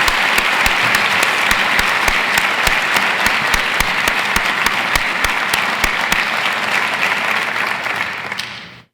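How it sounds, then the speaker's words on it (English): Applause from a large university audience at a State of the University address rings out as dense, loud clapping that stays steady for several seconds before cutting off at the end. "Let's give them a hearty round of applause."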